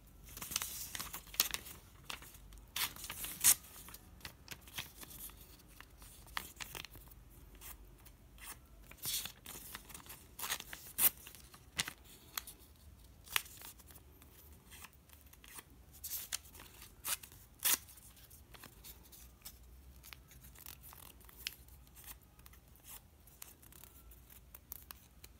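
Scissors cut paper for Funko Pop box labels in a quiet room, with repeated crisp snips and crinkles coming in irregular bursts close by, plus occasional paper rustling; no speech.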